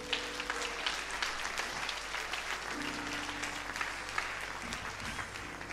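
A church congregation applauds in praise during a worship service in Niort, a dense steady clapping from a full room that lasts throughout and is heard alone.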